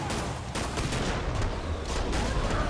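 Rapid, dense gunfire from the Spitfire weapon in the shooter game Killing Floor 2, a steady loud stream of shots and impacts filling the clip without pause.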